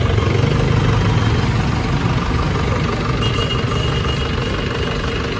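A modified jeep fitted with a Mahindra Bolero engine and big fat tyres runs steadily in Punjab, giving a continuous loud, deep engine rumble that holds even throughout, close by with no talk.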